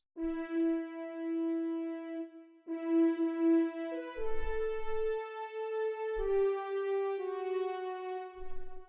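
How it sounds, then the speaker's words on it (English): A software French horn plays the Avengers Endgame theme alone, sustaining clear held notes that step through a slow melodic line with brief breaks between phrases, near and moderately loud. "So if I go here, French horn."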